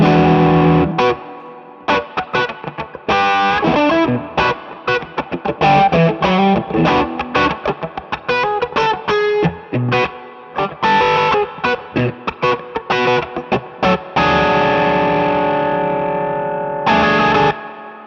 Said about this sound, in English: So that's from some more of my like overdriven kind of like gainy sounds for leads